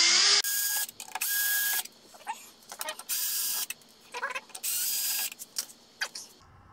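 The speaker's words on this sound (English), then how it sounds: "I'm going to go ahead and start taking these screws out." Screws driven out of a Razor E200 electric scooter with a power driver, several loud close bursts of motor whirring separated by short pauses and small clicks, no talk.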